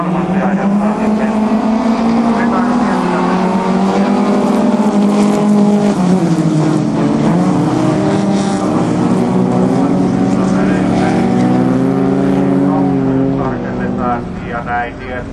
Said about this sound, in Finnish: Rutanen sai juonesta kiinni ja näin on myöskin vauhti jo melko kovaa tuolla